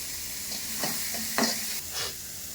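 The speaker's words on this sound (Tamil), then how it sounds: "தக்காளி ஆட் பண்ணிட்டு நல்லா கிண்டிக்கோங்க" Tomatoes and crushed garlic sizzle in a pan for a Tamil pepper chicken and rasam meal, with a few brisk stirring scrapes over a steady frying hiss.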